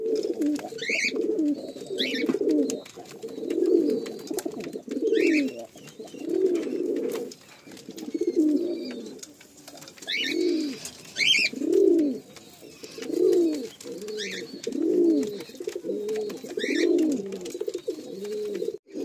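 Madrasi pigeons in a Kolkata loft coo close by in repeated rolling phrases about every second or two. Faint higher chirps are scattered among the coos.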